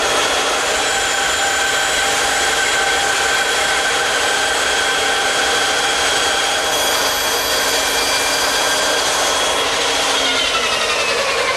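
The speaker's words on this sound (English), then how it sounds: "I'll remove the material at the bandsaw." A bandsaw cuts away corners of a wooden shelf, giving a steady, close whining hum with a faint shift in pitch near the end of the cut.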